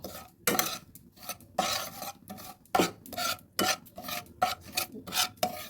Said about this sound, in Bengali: আস্তে আস্তে প্রায় ক্যারামেল হয়েছে একটু একটু কালার ধরেছে এবার আস্তে সব মিশিয়ে নাড়তে থাকবো